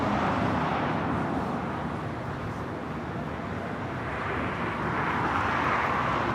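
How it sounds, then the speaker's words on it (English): A Lufthansa Boeing 747-8 Intercontinental takes off from the north side of LAX bound for Frankfurt, a loud continuous broadband engine roar that holds steady and swells slightly toward the end. "Lufthansa Queen taking off on the north side."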